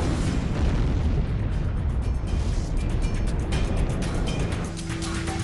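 A deep, rumbling roar of a Siberian explosion fills the clip, a dense sustained blast of noise that slowly eases toward the end.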